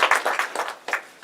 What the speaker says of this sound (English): So I'd like you now to give them a round of applause, all the folks working here who are actually delivering for our young people.